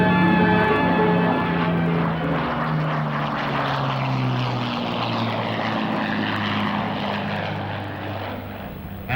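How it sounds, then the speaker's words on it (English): A propeller aircraft drones loudly as it takes off on a first flight, the engine pitch slowly shifting as it climbs away, with no talk. "A few straight hops, and off she went on her first flight."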